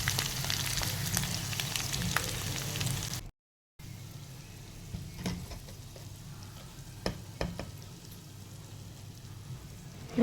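Chicken liver frying in a pan, a steady broadband sizzle with occasional pops and stirring clicks, briefly cut out before resuming slightly quieter.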